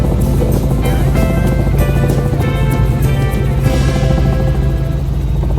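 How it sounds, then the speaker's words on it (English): A helicopter flies close by over Sydney, Australia, its loud rotor chop and engine drone steady and continuous throughout. "the helicopter experience is one you don't want to miss"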